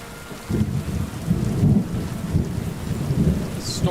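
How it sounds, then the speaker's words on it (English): A thunderstorm rolls through the video game Kingdom Come Deliverance 2, with steady rain hissing on surfaces and deep rumbles of thunder swelling and surging throughout, loud and close with no talking. "The storms in here are so good."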